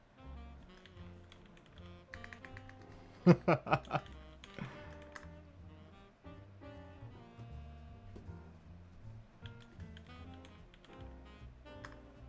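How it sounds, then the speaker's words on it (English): Typing on a computer keyboard while entering a password, with steady soft key clicks over quiet background music and a brief cluster of sharper, louder taps near the middle. "I'm not gonna show my keyboard as I type my Amazon password."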